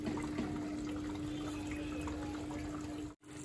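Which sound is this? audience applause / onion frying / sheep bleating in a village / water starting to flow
water starting to flow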